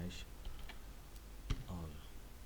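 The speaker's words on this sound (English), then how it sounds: "So let me type this ipconfig space slash all." Typing an ipconfig command on a computer keyboard: a handful of soft, scattered key clicks with one sharper tap, heard close under a quiet voice and background noise.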